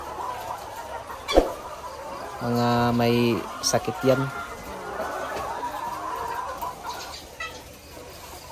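Chickens in layer cages giving a few clucks and a brief squawking burst amid cage rattles and knocks, while a person talks nearby.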